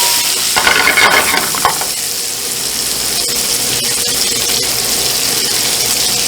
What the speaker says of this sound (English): So we're gonna saute this a little bit.